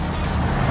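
A car passes close by, producing a loud, steady broadband road and engine rush across the whole brief moment.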